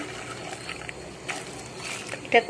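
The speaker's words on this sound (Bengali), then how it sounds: "এখানে চায়ের যে জলটা করে রেখে দিয়েছিলাম, এখানে গরম জলটা আমি দিয়ে দেবো" Hot tea-brewing water poured from a pot onto cooking kabuli chickpeas, a soft, low-level liquid trickle running steadily with a brief louder splash near the end.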